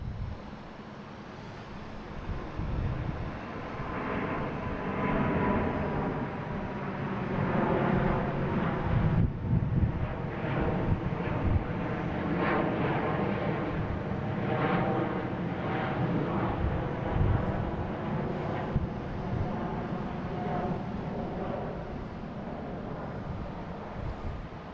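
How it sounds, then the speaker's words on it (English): A Delta Airbus A330-900 airliner departing Boston Logan for Amsterdam gives a sustained roaring jet rumble that swells and holds, mixed with wind buffeting the microphone. "we have Delta heading to Amsterdam at A330-900, flight 256"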